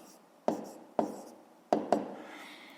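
Pen scratching on paper while working a 5th-grade math exercise, four sharp strokes in quick uneven succession with short scraping tails, close and clear with no talk.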